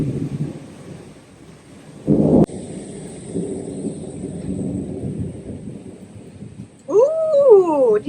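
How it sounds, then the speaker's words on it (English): Thunder rumbles through a summer storm, low broad rolls rising and fading against steady outdoor noise, with one sharp louder crack and a brief whining animal cry near the end. "But it's storming."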